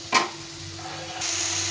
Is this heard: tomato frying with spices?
yes